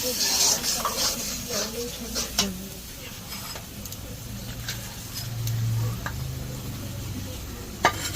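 Spoon stirring ground turmeric, chilli, coriander and garam masala in a pan for a duck curry, giving soft scraping and clinks with a faint sizzle underneath and one sharp tap near the end.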